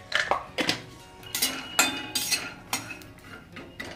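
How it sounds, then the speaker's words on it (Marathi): Peanuts are roasted in a pan and stirred with a spoon, giving a run of close, irregular metallic scrapes and clinks, roughly every half second, with only a faint sizzle. "शेंगदाणे आपल्याला मस्त असे भाजून घ्यायचे।"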